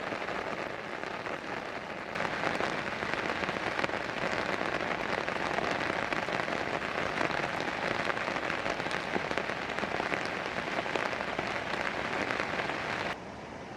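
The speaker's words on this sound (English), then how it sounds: "It then starts to rain heavily." Heavy rain falls steadily in a tropical forest reserve, a dense, even hiss of drops pattering on surfaces for several seconds.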